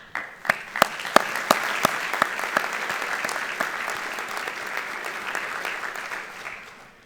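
An indoor audience breaks into applause at a doctoral hooding ceremony, a few loud distinct claps at first swelling into sustained clapping that gradually fades.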